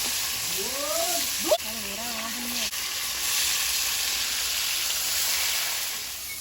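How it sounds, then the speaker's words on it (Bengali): Large fish frying in hot oil in a home kitchen, a steady close sizzle and crackle running throughout, with a brief voice and a couple of clinks early on. "মাছগুলো ভেজে নেব"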